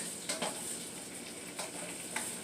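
French toast made with almond milk frying in a skillet over medium-high heat, a soft, steady sizzle with a few faint clicks, close and quiet, with no voices.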